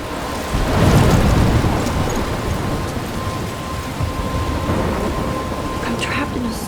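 A thunderstorm rolls through the video game Life is Strange, heavy rain pouring steadily with a deep rumble of thunder swelling early on, loud and enveloping, with a faint tonal hum underneath.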